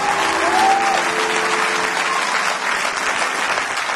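A church congregation applauds and cheers during a sermon, a dense, steady wash of clapping from a large crowd that holds loud and unbroken throughout.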